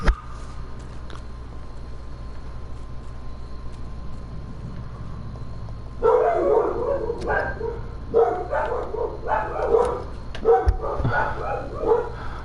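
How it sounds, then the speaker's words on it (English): Dogs barking at home, a burst of repeated loud barks and yips starting midway and continuing in uneven volleys, close by, after several seconds of quiet hum. "I'm really sorry about the dogs, guys."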